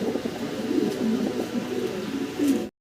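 Fancy pigeons at a farm coo steadily up close, soft low rolling calls overlapping throughout with no talk, cut off briefly at the end.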